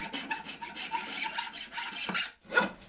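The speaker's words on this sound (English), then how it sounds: "Then I filed notches for the hooks, which was tough work in the stainless steel." Hand filing of notches into stainless steel banjo hardware: close, rasping strokes in a steady back-and-forth rhythm, ending with a brief pause and one more stroke.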